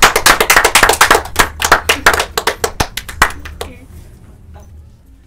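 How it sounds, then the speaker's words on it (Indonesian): A small group claps during an Indonesian podcast recording. The clapping is close, brisk and loud, then thins into a few scattered claps and fades out over the last couple of seconds. "Tepuk tangan."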